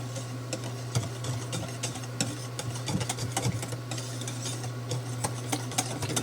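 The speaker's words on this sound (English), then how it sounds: "I'm going to give it a stir." Banana pudding mixture being stirred or whisked in a bowl partway through microwave cooking, a run of soft scraping and light clinks against the bowl over a steady low hum, with no talking.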